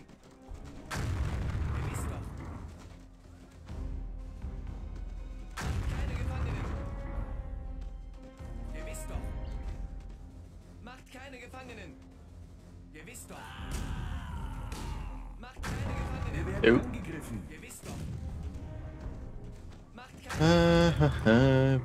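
Heavy cannon blasts boom repeatedly in the video game Empire Earth during a Napoleonic war battle, with crashes and rumbling between them while someone talks excitedly in German over the action.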